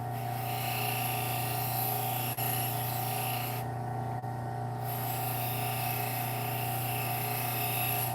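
A fillet knife is held against a spinning grinding wheel that whines in a steady, close drone, with faint scraping rubs from the blade and a couple of brief ticks, and no voices.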